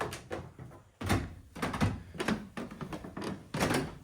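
A door being closed inside a lofted rental home in Italy, heard as a close series of thuds, knocks and scuffling handling sounds, with a solid bump near the start of the second second.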